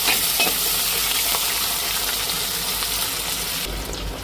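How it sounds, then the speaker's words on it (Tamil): Mixed ingredients sautéing in a pan for a Tamil home-cooked meal, giving a steady, close broadband sizzle with faint stirring clinks throughout, no talking. "நல்லா வதங்கட்டும் எல்லாத்தையும்"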